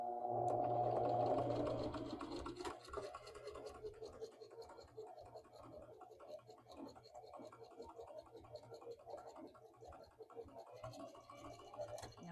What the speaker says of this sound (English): I'm going to sew those down.